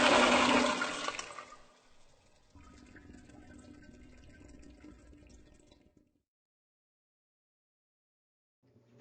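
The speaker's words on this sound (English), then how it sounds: "Toilet flush." A toilet flushes with a loud rushing surge of water that quickly fades into a quieter, steady refilling trickle before stopping.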